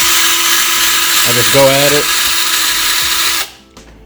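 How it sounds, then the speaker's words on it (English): A drill spinning a brass wire brush whirs steadily against a dirty engine block being prepped for a 1000hp 4.6 build, the loud grinding hum running continuously until it cuts off near the end, with someone talking briefly over it. "that's a brass brush on there, and it's on the drill"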